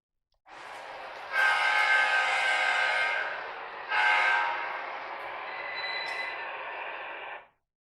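Lionel Strasburg Railroad 1970s green wood-sided passenger coaches roll along a model track, a steady close whirring rumble that surges louder twice before cutting off abruptly, with no talking.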